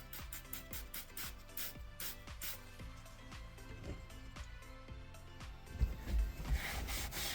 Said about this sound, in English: We'll just come right along and just scrub it.